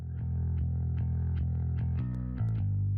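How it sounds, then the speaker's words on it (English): Distorted electric guitar played through an effects pedal, a crunchy sustained riff with a chord change partway through, loud and close with no voices. "this pedal doing some distortion with like a low mix, so it's just a little bit crunchy"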